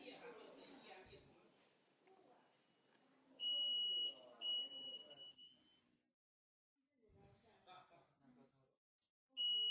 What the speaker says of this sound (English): when I pass through the antenna, it alarms